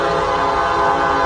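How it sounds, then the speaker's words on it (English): A train passing near Crawford Notch in New Hampshire blares a loud, sustained horn chord, a steady blast heard close up throughout the brief moment. "oh, there's the train"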